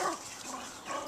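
A dog romping with a brick outdoors lets out a short bark-like yelp, close and moderately loud, in a brief burst with no talking.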